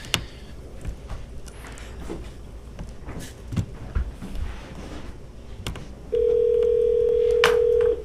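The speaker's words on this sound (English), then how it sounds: "You have to dial 9 and 1?" At a township council meeting, a telephone is dialed: soft handling clicks and key presses come first, then a loud, steady electronic tone holds through the last couple of seconds.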